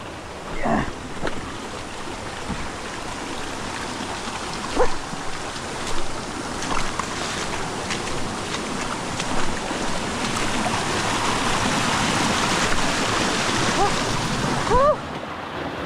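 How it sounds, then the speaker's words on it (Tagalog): River water rushing continuously at a bike trail crossing at dusk, a broad steady wash of flow and splashing that swells slightly later on, with a few brief knocks and a voice speaking at times. "Ayan ang ilog"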